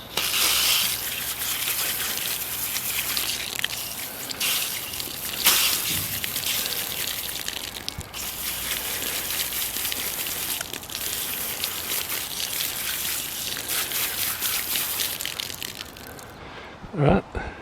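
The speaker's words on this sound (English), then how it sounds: "what we're going to do is wash this off with some just regular fresh water" Fresh tap water runs steadily over a fishing reel being rinsed of dust and grime, a continuous splashing wash that holds for most of the stretch before cutting off near the end.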